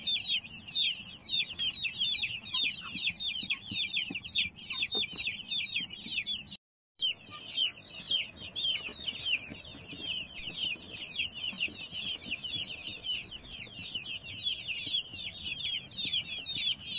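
Chickens of three kinds (organic, native and 45-day birds) keep up rapid, repeated clucking calls close by, with a brief silent break partway through.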